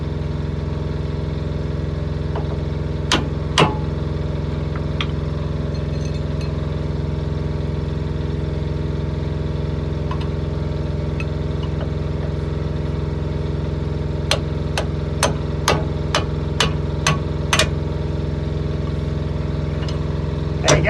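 18-ton Euro6 lorry diesel idles roughly with a cylinder off, a steady low drone broken by sharp clicking ticks in two clusters.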